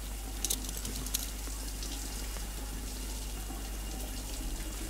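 Shower water running in the video game Death Stranding, a steady hissing spray with light patter on surfaces, even and continuous throughout under a low background hum.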